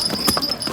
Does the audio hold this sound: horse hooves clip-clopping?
yes